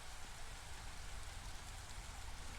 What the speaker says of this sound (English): I didn't appreciate how nice it is to just listen to the rain